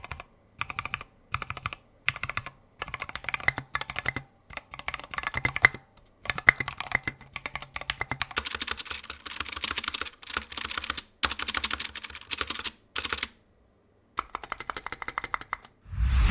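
Typing on a $350 custom mechanical keyboard and then on a Corsair keyboard, steady runs of close, crisp key clacks in bursts with short pauses, heard alone without talk.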